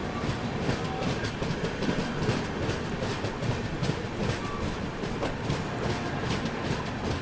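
A train passes on the opposite track, heard from aboard the Dhauli Express between Kolkata and Puri, with a loud, continuous rumble and a steady clickety-clack of wheels for several seconds.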